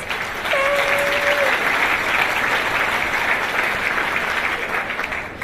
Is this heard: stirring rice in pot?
no